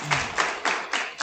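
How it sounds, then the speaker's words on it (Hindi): An audience at an award ceremony honouring students who passed board exams claps briefly in a quick, even rhythm of about five close, crisp beats. "तो उनके लिए एक बार ताली कर दीजिए।"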